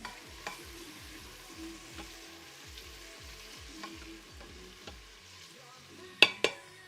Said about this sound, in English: Go ahead and stir this a little bit.